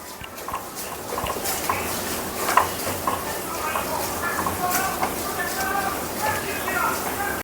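Masala spices for samosa filling sautéing in a pan, a steady soft sizzle and scrape of stirring with faint clatter, continuous throughout and near.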